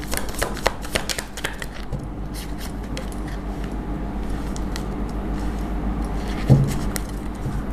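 Tarot cards shuffled in quick, dry riffling bursts, denser at the start and thinning out, over a steady low room hum with one brief louder knock near the end.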